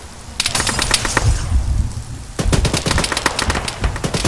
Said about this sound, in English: Getting shot from somewhere.